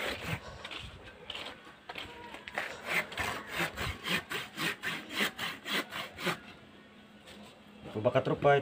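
Wood is sawn by hand for a squid trap, a run of rhythmic back-and-forth rasping strokes close up. It pauses briefly, then resumes with a few more scrapes, and someone speaks around it.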